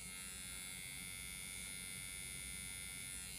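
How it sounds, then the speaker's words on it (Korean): An electric razor shaves a head in a steady, faint buzz and hum that runs unbroken and alone. "여기는 면도기로"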